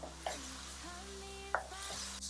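Spices and turmeric stirred into tomato frying in a pot for Nigerian peppered snails, with a couple of scraping stirs and faint background hum.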